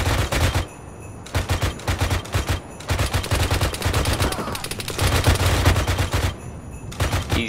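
Gunfire toward a large warehouse in the video game Arma 3, sustained rapid bursts of loud automatic shots with short pauses between them, up close, and a voice speaks briefly.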